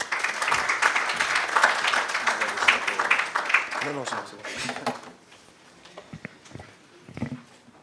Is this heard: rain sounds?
no